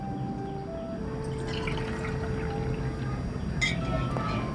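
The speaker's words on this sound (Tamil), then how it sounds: "இந்த புட்டுக்கு வந்து தண்ணி நம்ம தொளிச்சு தான் வரணும்." Water sprinkled by hand onto salted red rice flour for puttu, a steady soft pouring and dripping patter that runs throughout and sits close, with faint kitchen sounds behind it.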